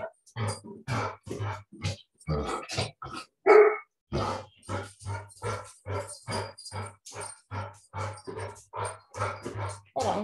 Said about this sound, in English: let's just let him get his bark out